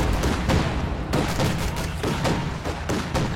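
Rapid bursts of gunfire crackle nonstop through a video game firefight, with dense overlapping shots, loud and close, continuing for the whole stretch.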